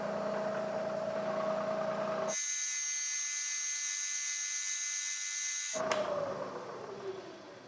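A Bridgeport milling machine cuts a metal tripod part with a 1/2 inch collet. A high, steady whine runs for several seconds, then stops abruptly and leaves a lower machine hum that fades away.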